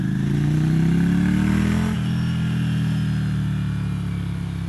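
A 2015 Ducati Scrambler Icon with a Termignoni exhaust rides along, its engine drone rising in pitch, dipping briefly as it eases off, then settling into a steady loud hum close to the rider.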